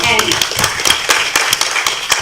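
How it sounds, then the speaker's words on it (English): A crowd applauds with dense, rapid clapping throughout, while a voice speaks over it. "a round of applause for them"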